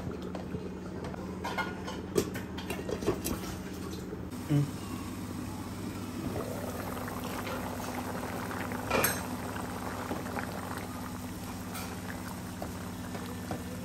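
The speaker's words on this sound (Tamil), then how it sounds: "நல்லா ஃபுல்லாக பச்சை வாசனை போகிற அளவுக்கு நல்லா கொதிக்கட்டும்." A covered pot of mutton gravy bubbling steadily on a stove, with a constant low simmer, an occasional metallic clink, and faint speech in the background.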